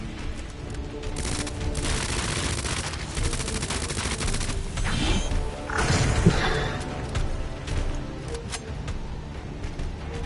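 Rapid regular-bullet gunfire in Resident Evil 2 during a boss fight in a lab, dense repeated shots and impacts over game noise, loud and close, with a heavier crashing burst midway.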